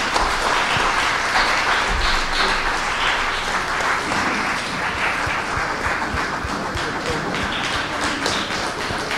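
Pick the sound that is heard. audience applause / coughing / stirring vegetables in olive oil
audience applause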